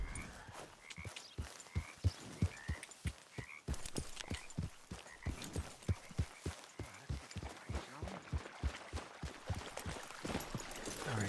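A horse in the video game Red Dead Redemption 2 clops along in steady, fairly quiet hoofbeats, with a faint croaking ambience in the background.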